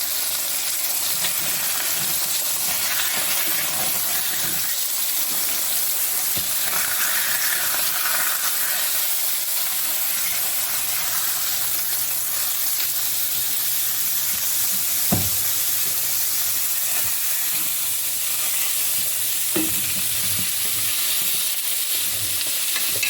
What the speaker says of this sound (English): I'm going to let it sear just a little bit, and then we're going to flip it over and then do the other side